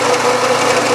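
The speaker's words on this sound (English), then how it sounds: "I'm now center drilling," A milling machine runs while center drilling, a steady dense whirring hum with a faint tonal whine, continuous and close throughout the brief moment.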